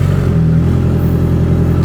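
An Audi TT engine turns over and runs at a steady, loud idle close by, a constant low rumble with no voices over it.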